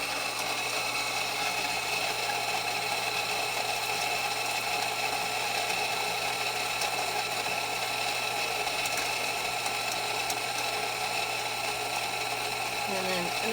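An electric coffee grinder runs steadily on 18 grams of coffee beans in a coffee house, a constant gritty mechanical whir that holds at an even level from start to finish.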